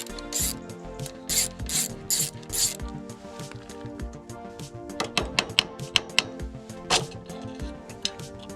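Ratchet loosening two small screws on a moped ignition, heard as close bursts of rapid pawl clicking followed by sharper scattered clicks and metallic taps, with no talking.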